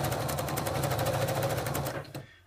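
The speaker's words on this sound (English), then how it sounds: "So now we start sewing" A sewing machine stitches an appliqué onto a t-shirt, running in a steady, fast mechanical rhythm close up, then slowing and stopping near the end.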